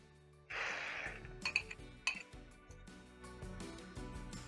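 A whisk beats eggs and chives in a bowl for an omelet, making a run of quick, light metallic clinks and taps against the bowl at close range.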